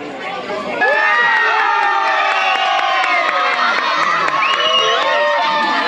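About 150 people crammed around a small TV at Baia Village, New Britain, cheer for Queensland during a State of Origin match: loud, close, continuous crowd roar with shouts and whoops that swell after the first second and stay dense throughout.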